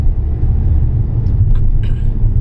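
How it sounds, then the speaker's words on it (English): Steady low road rumble from inside a moving car in traffic, with a continuous engine and tyre drone and a brief hiss of passing vehicles or air brakes, no talk. "Let me just get past this traffic."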